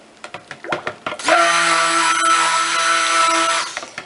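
A blender mixes lye solution and oils into emulsified cold process soap batter for cupcake soaps, running as a steady, loud whirring hum for a couple of seconds, framed by light taps and knocks before and after.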